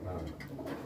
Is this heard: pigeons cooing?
yes